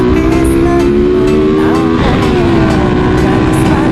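A Honda EX5 motorcycle fitted with a CDT racing CDI engine drones loud and close, its pitch rising and dipping as the throttle is blipped around the middle.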